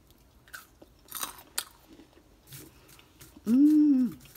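Someone eats a crunchy fried soybean side dish, with close, sporadic crunching bites followed by a brief hummed vocal sound at the end.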